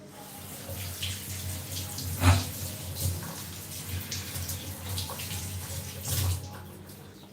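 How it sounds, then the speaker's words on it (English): Water for tea heating in a pot on a stove, a steady low bubbling and rushing wash with a few louder splashing pops, continuous and close, no voices. "let's wait for our tea to boil for some time"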